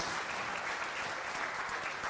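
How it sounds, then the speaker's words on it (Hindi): Loud, dense applause from a political rally crowd, steady clapping filling the whole stretch with no voices over it. "तो एक ताली तो जोरदार बनती है हम लोगों का वादा पूरा करने के लिए"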